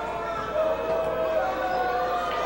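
High school basketball crowd in a gym, Dothan versus Auburn, murmuring and calling out in a broad, steady roar of displeasure after a foul call, with a commentator talking over it.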